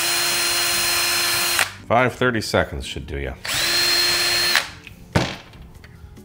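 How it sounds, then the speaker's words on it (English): A power drill bores a hole in an antenna part meant to fit a mast, whirring in long loud bursts with stuttering starts and stops, and someone speaks briefly between runs. "We need to drill a hole right there so it will fit"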